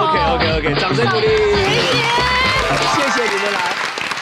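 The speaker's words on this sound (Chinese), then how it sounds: "掌声鼓励" Applause and cheering from a children's crowd at a school game show, a dense continuous roar of clapping and excited voices with music playing underneath.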